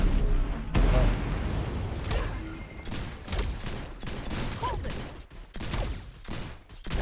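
Rapid bursts of gunfire in the PC game Dekker crack out repeatedly, loud and close, with heavier booms mixed in and short pauses between volleys.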